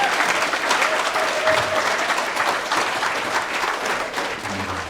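An audience at a Buddhist magazine publication celebration claps steadily throughout, a dense and even round of applause that fills the room without any talk over it.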